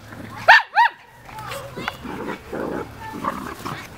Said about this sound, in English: He's growling. You're missing his growl.